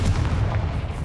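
In Hogwarts Legacy, the Confringo fire spell lands as a heavy, rumbling blast that rolls out and fades over about a second. Nobody speaks.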